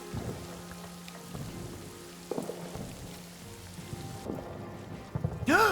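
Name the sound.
rain falling in a video game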